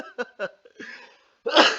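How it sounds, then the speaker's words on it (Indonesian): A person coughs several short times, close and fairly loud, with brief throat noises between and a harsher, longer burst at the end. "Tuh batuknya saya."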